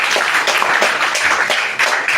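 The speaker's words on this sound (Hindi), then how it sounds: "जोरदार ताली" An audience at an award ceremony in Forbesganj gives enthusiastic applause, loud, dense clapping that stays steady with slight surges for the full stretch.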